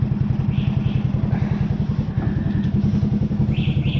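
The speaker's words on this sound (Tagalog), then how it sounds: "Dito yung motor ni Kuya Richard" A motorcycle engine runs close by with a steady, rapid low chugging pulse, like an idle, continuing without break and with faint clatter above it.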